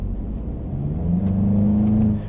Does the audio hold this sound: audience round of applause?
no